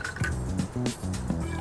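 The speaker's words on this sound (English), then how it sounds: "you're gonna fill up the champagne glass 3/4 of the way with cider" Apple cider poured into a champagne glass, filling it about three-quarters full, gives a short, close gurgling and dripping run of liquid.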